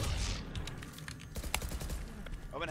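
Bursts of gunfire from the Valorant tactical shooter, a rapid string of sharp shots with a couple of louder single cracks, over steady game background noise.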